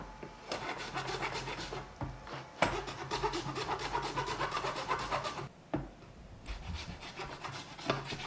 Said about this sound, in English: Since I have a pretty coarse file, I'm just gonna file it.